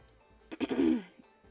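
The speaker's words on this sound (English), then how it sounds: "I am in the middle of a coughing fit" One short, rough throat-clearing cough bursts out close to the microphone, harsh and raspy for under half a second, then quiet.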